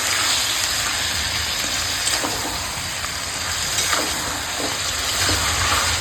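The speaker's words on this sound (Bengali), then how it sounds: "মাংসটা কষানো হচ্ছে সুন্দর করে তেল ছেড়ে দিচ্ছে" Chicken is sautéed in oil with ginger-garlic paste, turmeric, chilli powder and salt, making a constant close sizzle broken by a few soft scraping stirs of the pan.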